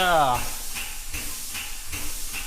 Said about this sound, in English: you're probably going to hear the compressor come on